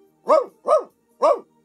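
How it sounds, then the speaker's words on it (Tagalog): A dog barks three times in close succession, loud and near, with short gaps between the barks and a quiet background. "Taol ti aso?"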